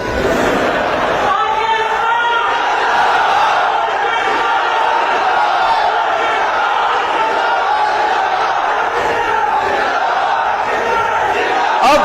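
A large crowd roaring and chanting slogans in response to a political speech, loud and continuous throughout with a dense, sustained wall of voices.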